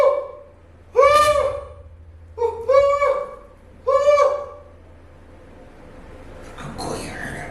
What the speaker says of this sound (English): It's the sound of the owl.